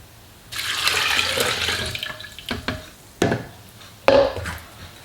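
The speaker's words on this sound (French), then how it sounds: "Et on vient ajouter un demi-litre d'eau." Half a litre of water pours onto rice that has soaked for twelve hours, making a close, splashing gush for about a second and a half. A few hard knocks and clunks from the container follow.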